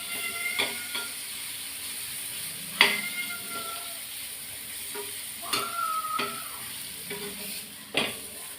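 Mustard seeds fry in a small amount of oil left in a pan after brinjal, a soft close sizzle broken by scattered sharp pops and clicks at irregular moments, with no talking.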